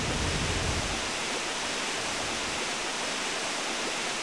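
Water draining away in Paper Mario: The Thousand-Year Door, a steady broadband rush like pouring water, heavier and deeper at first and then settling into a constant hiss.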